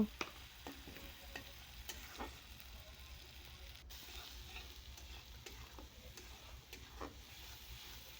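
Egg noodle ingredients and spices sizzle faintly in a pan while being stirred and sautéed, with occasional soft scrapes and taps of the utensil over a low, steady frying hiss.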